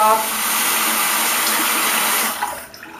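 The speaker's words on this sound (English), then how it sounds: "I'm just rinsing that brush" A paintbrush is rinsed in water, making a steady, close rush of splashing and swirling that stops abruptly near the end.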